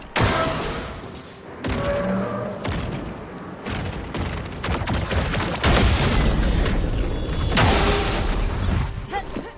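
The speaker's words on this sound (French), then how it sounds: "Là il va exploser par contre." Loud explosive bursts and booms in turn-based combat in Clair Obscur: Expedition 33, as an enemy blows up amid a dense run of crashing impacts and battle effects that come in waves throughout.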